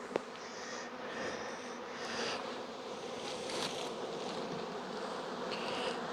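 Package honey bees buzz continuously around the microphone, a dense, droning hum with individual insects swelling louder as they pass close.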